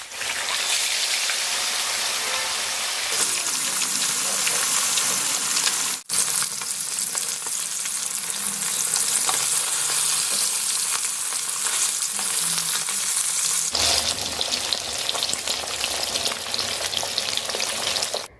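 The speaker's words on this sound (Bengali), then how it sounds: "তেল গরম হয়ে গেছে এবার মাছগুলোকে আমি লাল লাল করে ভেজে নেবো" Fish frying in hot oil in a pan, a loud, steady, close sizzle that crackles continuously, with one brief break partway through and a surge when it resumes.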